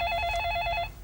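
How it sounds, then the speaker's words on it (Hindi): A telephone bell rings in a steady trilling burst for most of the second, loud and close with a low room rumble beneath, then cuts off. "रीचा फोन उठाना, रीचा फोन।"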